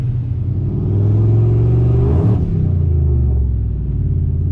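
A single-turbo Ford F150 truck makes a full-throttle pull on the street, a loud, deep engine rumble swelling and rising in pitch before a brief dip and a steady continuing drone.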